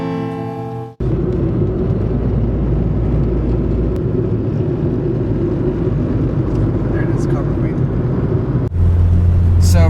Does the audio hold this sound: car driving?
yes